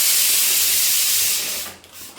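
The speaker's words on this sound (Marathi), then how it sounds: "अचानक सगळं पाणी फसफस गॅस कुकरमधून बाहेर यायला लागले आहे" Water sputtering out of a pressure cooker on a gas stove gives a loud, steady broadband hiss that holds for over a second and then drops away and thins out toward the end, with no voices.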